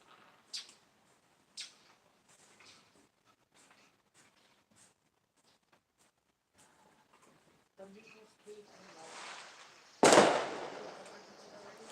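Neighborhood fireworks pop sporadically in the distance, a few sharp cracks early on, then rising rumble and a loud close burst near the end.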